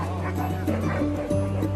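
Dogs at a pet adoption event yip and bark in short, overlapping bursts amid a busy crowd, with steady background music and chatter throughout.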